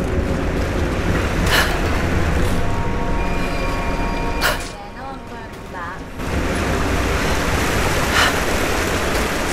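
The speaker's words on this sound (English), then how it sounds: "There's water down below." Water below a cave in Rise of the Tomb Raider, heard as a steady wash of rushing, surf-like noise throughout, dipping briefly in the middle with faint tonal game sounds over it.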